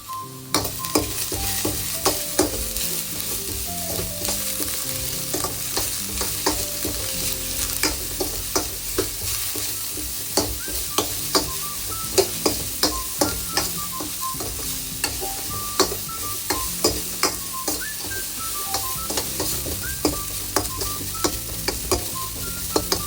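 Curry leaves and chopped chillies with salt fry steadily in hot oil for lemon rice, a continuous close sizzle broken by frequent sharp clicks of a spoon stirring against the pan, with no talking.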